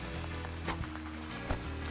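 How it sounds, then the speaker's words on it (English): Rain falls steadily in a Peanuts cartoon, a soft continuous patter with a few louder drops, with no speech over it. "It's raining."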